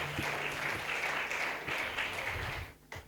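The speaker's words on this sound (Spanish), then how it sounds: "Dale fuertes palmas al que vive y reina para siempre." A church congregation during a fasting and prayer service claps vigorously, a steady dense patter of hands that fades out near the end, with music faintly underneath.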